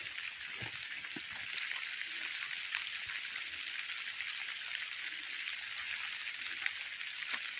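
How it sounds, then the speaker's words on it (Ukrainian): Light rain falls steadily through a gloomy winter forest, a soft continuous hiss of drops on leaves and ground with no talk, close and even throughout. "Дощик падає, похмуро в лісі."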